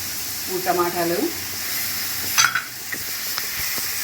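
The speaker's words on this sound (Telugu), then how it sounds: "ఇది ఎలా వేగుతూ ఉంటుంది" Cashew, coconut and poppy seed paste with tomatoes frying in a pan give a steady soft sizzle with occasional stirring clatter, while a person talks briefly over it.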